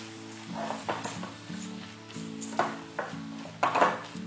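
Drumstick thokku with tomato cooks slowly in oil over a low flame, a soft steady sizzle broken by spoon scrapes and clinks against the pan.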